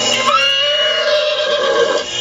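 A horse at an outdoor country wedding, where the guests sit on haystacks and the wedding party rides horses, gives a single loud, close whinny that rises and then trails off over about two seconds.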